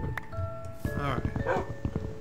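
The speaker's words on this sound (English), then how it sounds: "Oh look, you even got some dogs here" Dogs in the video game Minecraft give a few short, close yips and barks, with someone talking at the same time.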